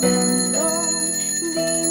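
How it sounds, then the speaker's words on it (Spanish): Ringing bell tones with sustained overtones, changing pitch in a melodic pattern, steady and moderately loud. "suenan las campanas"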